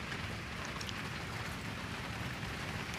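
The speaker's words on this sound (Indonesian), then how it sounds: "Hujannya membara dah." Heavy rain pours down steadily at a riverside fishing spot during flooding, a dense, even hiss and patter with no breaks or voices.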